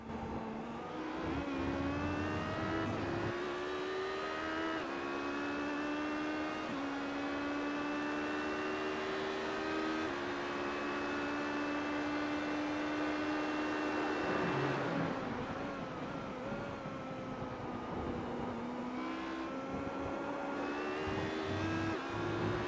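Onboard race car engine at the Le Mans 6 Hours, a loud steady drone rising and falling with gear changes and throttle through the lap, continuous and close with no talk over it.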